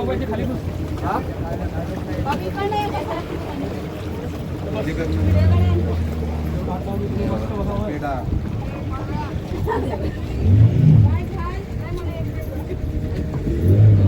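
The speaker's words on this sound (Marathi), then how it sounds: "आता बोटीत बसलोय आपण आणि आपली एक बोट गेले पुढे" A motor boat ride on the water at Devbag, Malvan, with a steady engine drone, rushing water and wind buffeting the microphone throughout, while someone talks over the noise.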